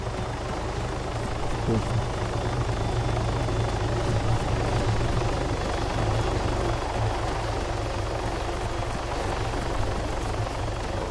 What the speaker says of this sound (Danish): Helikopter lige over jer.